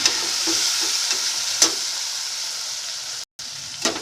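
Citron pieces sautéing in a pan for an instant pickle-style pachadi, a continuous close sizzle with occasional scraping stirs and a brief drop to silence near the end.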